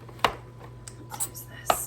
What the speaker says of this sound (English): And I might have to cut this pepper.